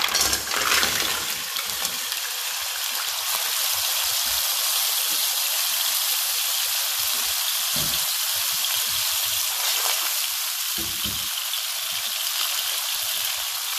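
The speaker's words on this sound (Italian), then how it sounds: "L'olio è già profumato, quindi possiamo aggiungere le cozze" Mussels dropped into hot oil fragrant with whole garlic cloves in a pan, setting off a loud, steady hiss and crackle with occasional clinks of shells, no talking.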